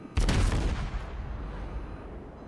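Des Moines cruiser guns firing in World of Warships, a sudden booming salvo of several near-simultaneous shots followed by a long rumbling decay that fades out over a couple of seconds.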